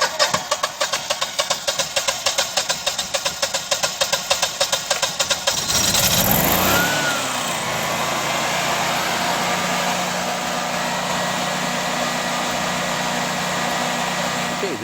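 A Generac standby generator with a repaired cracked cylinder head cranks with rapid rhythmic chugging for several seconds, catches and then settles into a steady, loud running drone during its exercise cycle.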